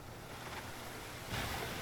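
Water rushes into a channel in Genshin Impact, a broad wash of surf-like noise that swells louder near the end, with no talk over it.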